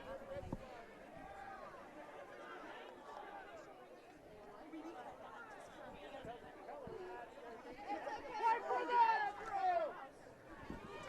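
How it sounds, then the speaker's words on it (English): Home crowd in the stands at a high school football game voicing displeasure at a referee's call, a distant murmuring babble of many voices that swells into louder grumbling and shouts near the end. "So the home crowd is not very happy with that call, as you probably can hear."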